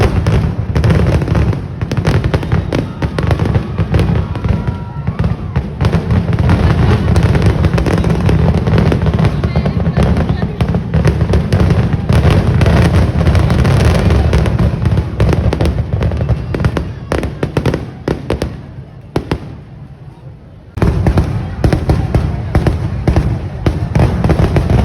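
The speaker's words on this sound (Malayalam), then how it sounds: "അപ്പോൾ അങ്ങനെ നിന്നിട്ട് കുറേ നേരം വെടിക്കെട്ടൊക്കെ പൊട്ടണത് കണ്ടു കേട്ടോ" Festival fireworks at Pooram, bursting in a dense, continuous barrage of loud cracks and booms with crowd noise beneath, briefly dropping out near the end before resuming.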